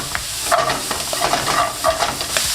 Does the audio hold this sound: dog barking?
no